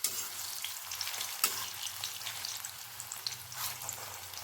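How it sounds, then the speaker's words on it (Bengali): Jackfruit kofta balls frying in hot oil in a pan, a steady dense sizzle and crackle throughout with a few sharper pops, close and alone with no talk. "আর একই রকমভাবে এই পাশগুলোকেও ভেজে নেব"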